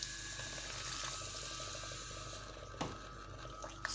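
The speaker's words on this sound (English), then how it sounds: "Then we have to add some water." Water pours steadily onto yam flour being prepared as pounded yam fufu, a continuous soft splashing rush with a few brief clinks near the end.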